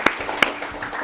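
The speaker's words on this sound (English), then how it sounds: "Ladies and gentlemen, let's clap for them." Studio audience at a school quiz show gives a brief, light round of applause for a team, with two sharper claps standing out over a soft, scattered patter.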